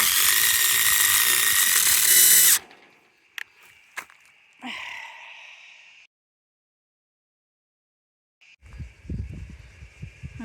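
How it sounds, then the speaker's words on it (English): A cordless impact driver fitted with a hex head drives screws into a wooden garden bed: a loud high whirring burst, then short hammering bursts and brief quieter runs separated by silence. "the impact driver, get the hex head on"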